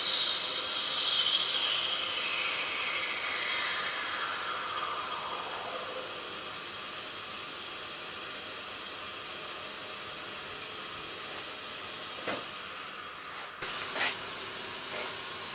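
A machine cutting brass tube slugs at a high feed speed, giving a loud high whine that sweeps downward and fades into a steady mechanical hum, with a few sharp clicks near the end.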